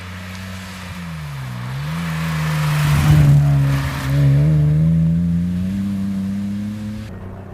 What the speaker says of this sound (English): Foot down, instant noise, instant power. And it has that beautiful tone as it accelerates.